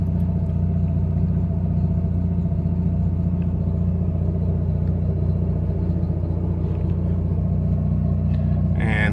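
An '85 GSL-SE car's engine idles roughly, a loud steady low rumble running unbroken close by, with a brief rise near the end.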